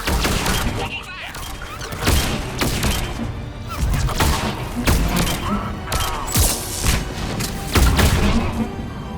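Sustained gunfire and heavy thumping impacts fill a video game battle under heavy attack, dense bursts and booms rolling on loudly for the whole stretch, with voices calling out beneath the barrage.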